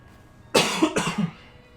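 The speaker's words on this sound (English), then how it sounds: "Yeah, I just had to clear my throat." A person clears their throat and coughs a few times in a quick, close burst, followed by quiet.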